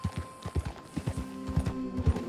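Horse hooves clip-clop in a steady walking rhythm in Red Dead Redemption 2, each step a close, distinct thud, over a faint low hum, with no talking.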